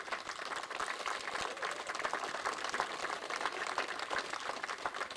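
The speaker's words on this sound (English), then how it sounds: "So a round of applause for those 2 guys." A crowd at a Fulbeck motorsport round in the Daniel Ricciardo Series gives a faint, distant round of applause for two drivers, a steady patter of many hands heard from far away.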